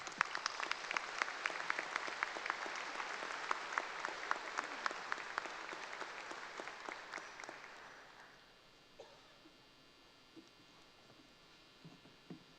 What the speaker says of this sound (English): We can clap again.